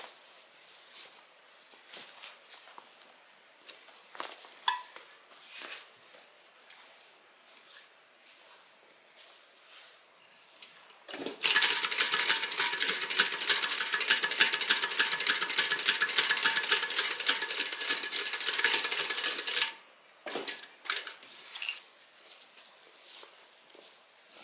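A sewing machine stitches a Kelley beverage bag, a dense, fast mechanical whirr lasting several seconds between quieter stretches of handling noise and rustling, close to the listener.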